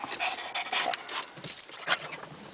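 At a dog beach in Ocean Beach, San Diego, an excited Labrador whimpers and whines in a series of close, high-pitched cries, with no talking over them.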